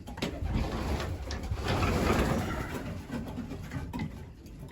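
Racing pigeons cooing inside a loft, a steady low murmur of several birds close by with soft shuffling, and no talk.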